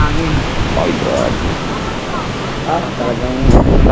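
Strong wind roars across a stormy coast with sea waves surging underneath, a continuous loud broadband rush with gusts building near the end, while people talk over it.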